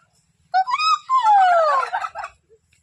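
Turkeys on a poultry farm let out a loud, close gobble, one rapid warbling burst that drops in pitch and lasts about two seconds, ending in a short trailing note.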